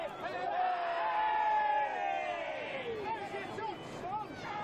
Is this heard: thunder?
no